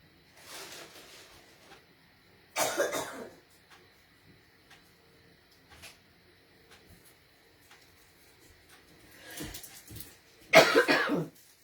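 Several sharp coughs in separate bursts: a faint cluster early, a strong single cough, then a pair of harsh coughs near the end, with quiet room noise between.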